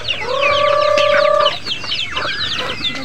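Chickens on a hillside farm in Bukidnon, one close bird giving a loud drawn-out call before quicker clucks and squawks from others, with no voices.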